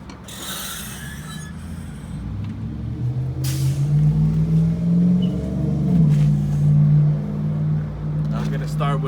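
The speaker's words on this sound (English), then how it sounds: "So I'm gonna open my hood safely." A truck hood is opened on the passenger side during an inspection, giving mechanical clunks and a grinding, ratcheting creak over a low engine hum, with a person talking.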